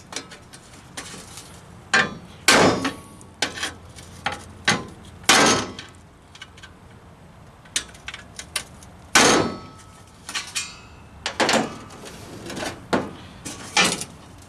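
Hammer striking a metal TBI air cleaner, a series of irregular sharp clanking blows with short pauses between, close and fairly loud, with no talking.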